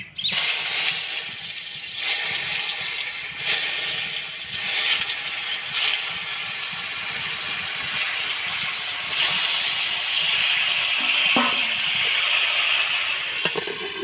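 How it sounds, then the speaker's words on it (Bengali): Round potato slices frying in hot mustard oil in a wok give a steady, loud, continuous hiss and sizzle throughout, with brief crackling bursts and a faint clink near the end. "তেলটা গরম হয়ে গেছে, এই যে গোল গোল আলু ভাজাটা করে নেব।"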